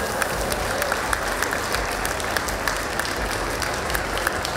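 Continuous applause fills the hall at a cosplay contest awards ceremony in Offenburg for a Barney Stinson cosplayer, an even, moderately loud patter of many hands with faint crowd murmur underneath.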